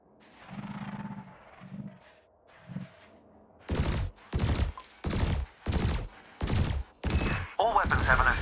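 Ship weapons fire at floating canisters during a space flight combat exercise in Elite Dangerous. A faint hum and short tones come first, then about seven loud, sharp shots land at an even rhythm, roughly half a second apart.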